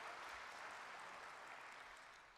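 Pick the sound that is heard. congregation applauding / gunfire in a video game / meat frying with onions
congregation applauding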